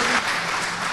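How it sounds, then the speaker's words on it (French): A brief, loud burst of dense crowd applause at a political congress gathering sounds like many hands clapping together, steady and close. "applaudissez à rompre et même à faire sauter les toits, même s'ils sont en béton."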